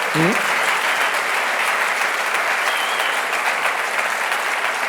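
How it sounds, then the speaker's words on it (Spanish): A large audience bursts into loud, sustained applause that stays dense and steady for about five seconds, with only a brief voice at the very start. "Un aplauso, por favor, a la gente que está en Valencia ayudando."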